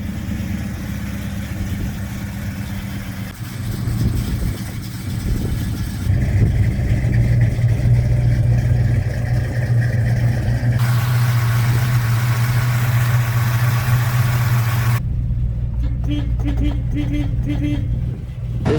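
A 1970s Plymouth Road Runner muscle car idles with a deep, lumpy V8 rumble, near and steady, settling into a lower burble toward the end.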